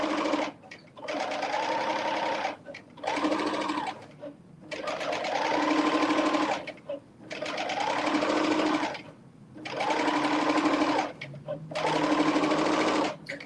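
A sewing machine stitches a garment in repeated bursts, several runs of a few seconds each separated by short pauses, close and steady with a whirring motor.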